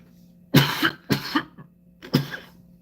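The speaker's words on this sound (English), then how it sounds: "Probably there's a couple of coughs." Three rough coughs close by, evenly spaced about half a second apart, each a short harsh burst followed by a pause.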